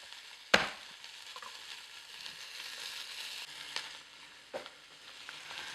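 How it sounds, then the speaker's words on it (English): Chopped onions drop into a hot pan still slick with beef drippings and oil, giving a sharp hit followed by a steady broadband sizzle with a few faint utensil scrapes, close and alone. "gonna add our chopped onions into our pan that the beef just came out of. It's still hot, the oil's in there"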